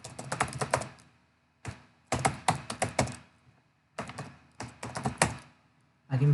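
Quick keystrokes clatter on a computer keyboard while a hostname is entered during a Fedora Linux install, coming in close, crisp bursts of typing separated by short pauses.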